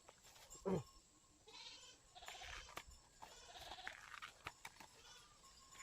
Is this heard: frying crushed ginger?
no